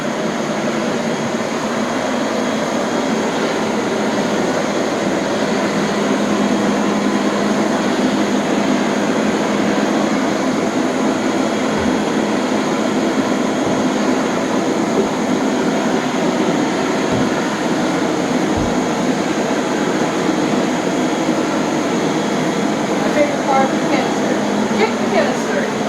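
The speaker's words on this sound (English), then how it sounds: "Well, it's a water vacuum, so you could pick it up if you wanted to." A Rainbow water-filter vacuum cleaner running on a bare floor, giving a loud, continuous motor drone and airy rush that stays steady throughout.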